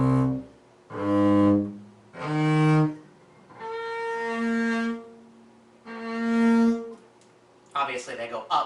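Low open strings bowed on a string bass sound out as five long, sustained, resonant notes, each separated by brief silence and heard alone before a voice begins at the very end.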